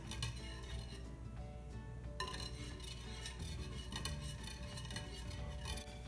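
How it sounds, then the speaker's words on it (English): A whisk stirs homemade caramel sauce in a pan, giving a steady run of light metallic clinks and scraping ticks against the pan, fairly faint and continuous with no talking. "And when it's really melted, I start to use the whisk."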